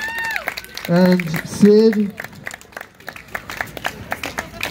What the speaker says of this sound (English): Put a round of applause together for all the staff